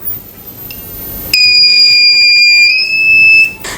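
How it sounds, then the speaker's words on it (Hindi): Piezo buzzer of a single BC transistor LDR darkness alarm circuit sounding close by: a faint whine, then a loud, shrill continuous electronic tone that shifts pitch slightly and cuts off near the end, no talk. "जैसे मैंने यहाँ पर LDR पे अंधेरा किया हमारा बजर यहाँ पर काफ़ी ज़ोर से बजने"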